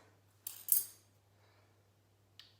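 Scissors snip off a crispy, dried Begonia Rex leaf, two quick close crisp cuts followed by a faint later snip in an otherwise quiet room.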